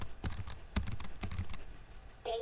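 A computer keyboard clatters in quick bursts of key presses during gameplay of a rhythm game, close and fairly quiet, followed by a brief game sound at the end.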